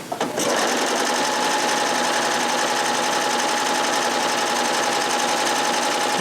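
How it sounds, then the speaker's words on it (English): A Baby Lock Triumph serger runs through knit fabric, its loud, fast, even mechanical whir sustained close up for several seconds after a brief start, with no talking. "Sewing through this, I'm going to speed it up a little bit."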